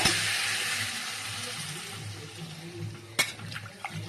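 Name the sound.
water poured into pot of pumpkin curry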